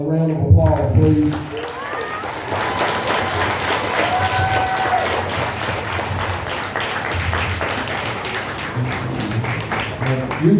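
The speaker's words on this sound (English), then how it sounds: "give all the recipients a round of applause, please." Sustained audience applause and cheering for pro wrestling award recipients at a live wrestling promotion event, dense steady clapping from a crowd throughout with a few whistles and voices mixed in.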